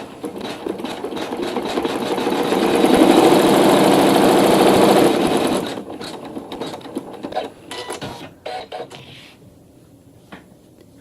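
A sewing machine stitching through a quilt runs in a fast, steady mechanical whir for about five seconds, then stops, followed by quieter clicks and handling sounds.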